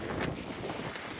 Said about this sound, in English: very windy, and we are in a wind warning